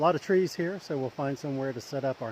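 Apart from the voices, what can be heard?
No everyday noise stands out behind the speech.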